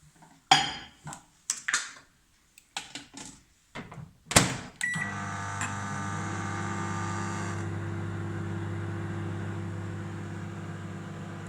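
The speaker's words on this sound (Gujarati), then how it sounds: "આપણે એને પાછી 3 મિનિટ માટે માઇક્રોવેવમાં મૂકશું" A microwave oven heating a dish of khandvi batter: a few sharp clunks and clicks as the door shuts and buttons are pressed, then a steady loud hum with a whirring fan that carries on alone.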